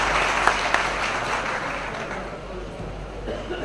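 Crowd clapping at a birth anniversary program in Hyderabad, a steady, fairly faint wash of applause with a few sharper claps and a low hum underneath.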